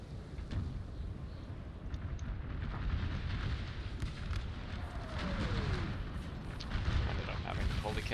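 Cannon artillery fire in the strategy game Napoleon: Total War during an American Civil War battle: a steady stream of deep rumbling booms and crackling volleys, continuous and dense, with someone talking over it.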